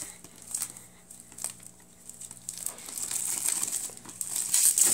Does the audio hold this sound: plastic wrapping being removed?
yes